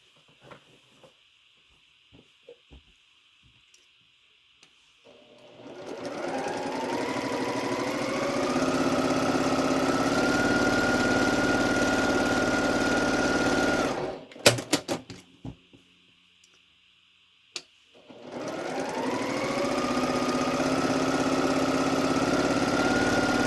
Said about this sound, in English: we're going to sew a 1/4 inch on either side, or I shouldn't say either, but both sides of this line